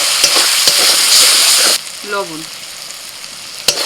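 Spice paste of fried ginger and garlic with Kashmiri chili, turmeric, cumin and coriander powders crackles loudly in a pan with stirring scrapes, then the sizzle cuts off abruptly and a single word is spoken.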